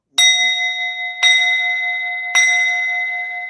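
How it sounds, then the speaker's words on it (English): A bell struck three times in slow succession, each clear metallic ring sustaining and overlapping the next, loud and close with no voices. "I'm ringing the bell for that."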